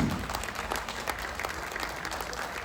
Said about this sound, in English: A big claps.